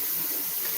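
Tap water runs steadily into a kitchen sink while filling for washing dishes, a continuous hiss close by with no talk.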